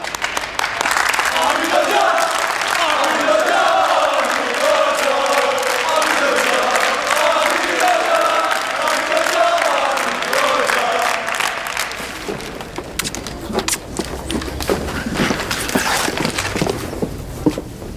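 An audience at a high school award ceremony applauds as the principal walks onstage: dense, steady clapping from a large crowd, loud and continuous, thinning out slightly toward the end.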